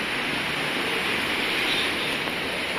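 Sea waves washing onto a beach in Quezon province, a steady broadband roar of surf that holds at an even level throughout, close and continuous with no talk.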